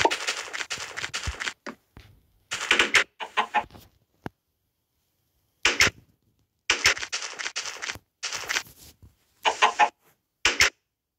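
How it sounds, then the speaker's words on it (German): Chickens in the blocky video game Stickman Skyblock give repeated clipped clucks in short bursts separated by silences, fairly quiet and heard alone. "Oh nein, Hühner sind tatsächlich auch nervig."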